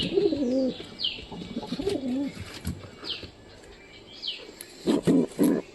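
A giribaz pigeon gives a series of low, throaty coos close by, with a few thin chirps and soft rustles between the calls.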